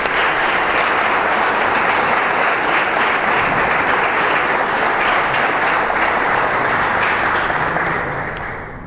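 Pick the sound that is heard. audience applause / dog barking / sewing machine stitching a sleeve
audience applause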